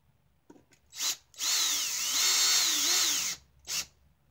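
Power drill driving a screw into a disc golf basket under construction, with a short trigger blip, a sustained whirring run of about two seconds that bogs slightly as the screw seats, then a final quick burst, close and loud.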